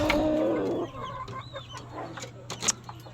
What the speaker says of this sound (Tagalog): Ay, himas tayo ng manok.